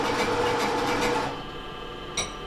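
A sewing machine stitches a seam at 3/8 inch in knit fabric, running steadily with a close mechanical whir that stops after about a second and a half and leaves a quiet hum, then a brief click.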